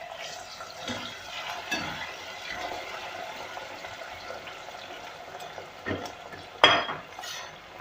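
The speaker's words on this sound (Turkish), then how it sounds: "Şöyle patateslerim kızarsın." Oil sizzles steadily with a soft crackle as potatoes fry, punctuated by a few clinks and stirring scrapes.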